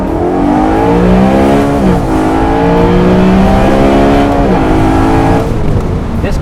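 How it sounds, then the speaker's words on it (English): A loud, close modified BMW E93 M3 engine revs repeatedly, its pitch climbing and dropping in strong surges with a throaty intake roar, even with exhaust valves shut. "even with the valves shut, you still have an amazing induction noise."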